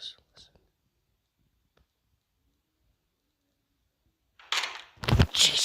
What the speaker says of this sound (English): upon hearing whispers coming out of nowhere